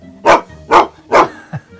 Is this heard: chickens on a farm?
no